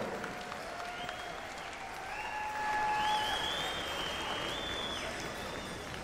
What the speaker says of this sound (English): One more time, a round of applause, my friends